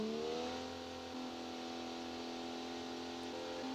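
A high-revving inline-six car engine in the BeamNG driving game holds a steady, sustained whine at high rpm, with a slight drop in pitch partway through and no talk over it.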